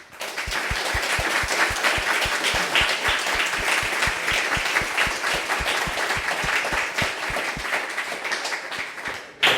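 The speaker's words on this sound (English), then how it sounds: "let's have another round of applause for the speakers" Warm applause from an audience after talks at a cycling event, steady dense clapping with sharp individual claps standing out, sustained for several seconds before a brief stop.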